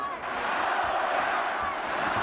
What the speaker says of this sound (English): The home crowd now really get behind him